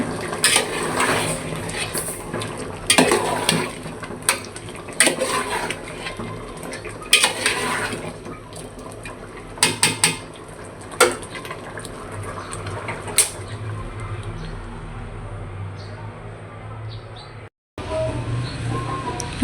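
A spoon stirs gourd curry with drumstick leaves in a pan in a home kitchen, making scattered sharp scrapes and clinks against the pan over a low steady background, with a brief dropout near the end.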